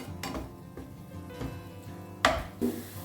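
Spices for mint pulao frying and being stirred in a pan, with soft steady sizzling and a few louder scrapes and clinks of the spoon against the metal.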